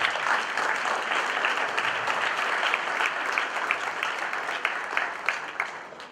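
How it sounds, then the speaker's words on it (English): Conference audience at a mobile tech festival in Phoenix gives the speakers a big round of applause, a dense, steady wash of many hands clapping that holds for several seconds before thinning slightly at the end. "If you can give a big round of applause to all the speakers"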